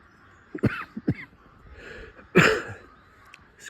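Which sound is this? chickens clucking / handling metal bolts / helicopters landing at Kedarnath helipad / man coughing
man coughing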